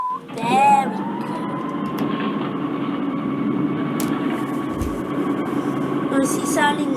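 In the OpenBVE train simulator, a train's air compressor runs with a steady, sustained mechanical hum and whine over a low rumble, continuing evenly throughout, with a few brief sounds at the start and end.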